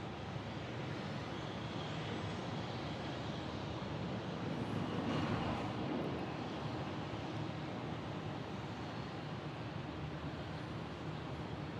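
An airliner jet climbs out from Orlando International Airport with a steady, broad engine roar that holds throughout, swelling slightly midway, heard from a distance with no talk.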